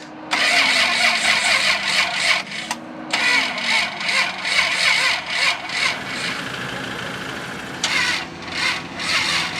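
A Ferrari F355 Challenge race car running on a borrowed battery cranks and tries to start, its starter whirring loudly in a long, rapid chugging stretch, briefly pausing, then cranking again with a falling motor tone, with no talking.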